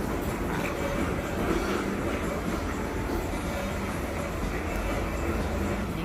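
An elevated electric train rumbles steadily past an outdoor event at the Peninsula Hotel, loud and continuous with clattering wheels and a faint squeal throughout.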